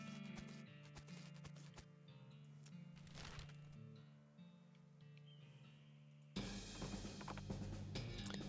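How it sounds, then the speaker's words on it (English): A brown horse ridden down a road in the game West of Loathing clip-clops in faint, uneven hoof beats over a low sustained musical tone, turning louder and busier toward the end. "Spot a guy riding down the road on a brown horse"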